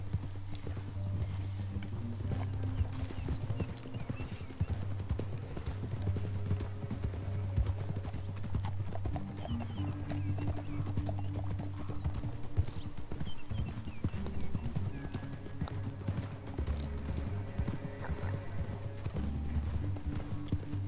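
In the video game Red Dead Redemption 2, steady clip-clop of horse hooves at a walking pace, moderately close, under a constant low music bed with a brief whinny.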